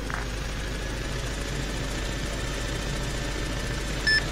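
A Eurocopter helicopter lifts off in Arma 3, its engine a steady low rumbling drone that holds at an even level throughout, with a faint brief beep near the end.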